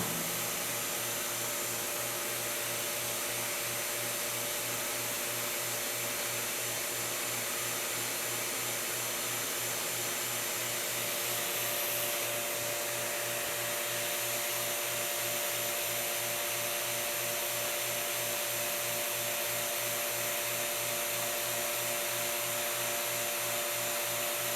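Vacuum bag press pumping air out of a bag laid over wood molding, a steady droning motor hum with a constant whine that runs unchanged and alone throughout, moderately loud.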